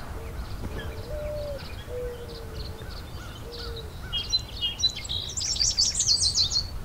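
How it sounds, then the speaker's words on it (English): Mourning dove singing outdoors in a Southern Ontario summer, low soft cooing notes drawn out and repeated at a distance, with other songbirds chirping brightly and more loudly toward the end. "That's the song of the mourning dove."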